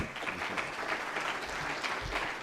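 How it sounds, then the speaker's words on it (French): Audience applause after a French-language talk on modulation, a steady wash of many hands clapping that holds evenly throughout, moderately loud and close, with no voices over it. "On vous applaudit."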